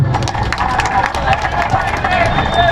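College audience applauding after a mimicry performance, dense rapid clapping mixed with cheering and crowd noise, loud and close throughout.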